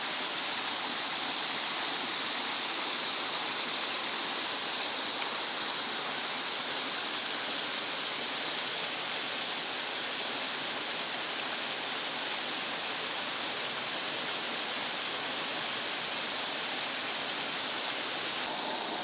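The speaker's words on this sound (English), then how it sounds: "Here's the creek now" A steady, even rush of flowing creek water in Slips Canyon, continuous and fairly close, with no voices or other sounds.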